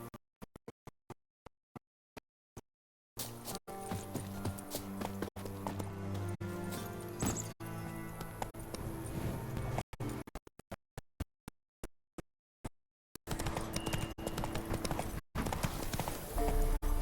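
Roach the horse from The Witcher 3 gallops, hooves pounding in a fast, rhythmic clip-clop over game music, with the sound cutting in and out in choppy gaps.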